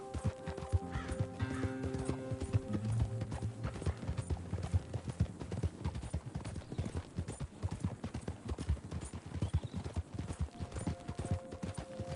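Horse galloping in Red Dead Redemption 2, with steady rhythmic hoofbeats and a whinny over a soft game music bed and wind.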